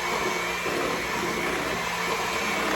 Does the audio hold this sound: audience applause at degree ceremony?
no